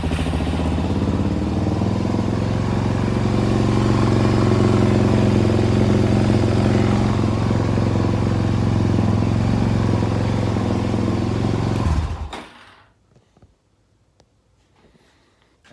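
Suzuki DRZ400 motorcycle engine running loud and steady close by at a rough idle for about twelve seconds, then cutting off abruptly into near silence.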